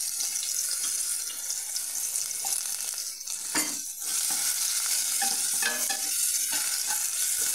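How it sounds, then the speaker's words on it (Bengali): Finely shredded radish hits a hot pan and fries with a loud, steady, watery hiss, broken by a few stirring scrapes and a brief dip midway, with no one speaking. "এবার এতে দিয়ে দিচ্ছি মূলো, ঝিরিঝিরি করে কেটে রাখা মূলো।"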